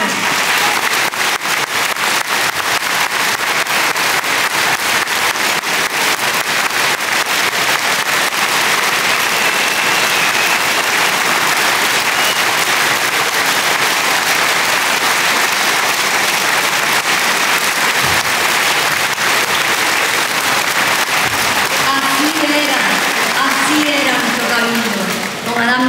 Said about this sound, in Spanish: hoy quiero que todos le demos un gran aplauso a una persona que no podía dejar de estar hoy aquí